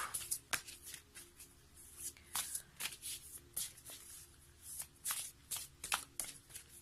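Tarot cards shuffled by hand for a reading, quiet close riffles and bursts of paper flicking in irregular clusters, with soft pauses between.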